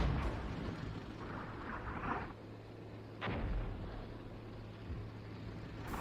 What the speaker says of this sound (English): Some enemy mortars coming down there, but they're too late